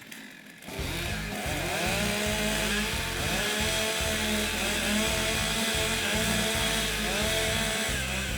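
Several STIHL stock chainsaws are revved at a timbersports competition, snarling loudly in repeated bursts of throttle that overlap after a brief quiet start.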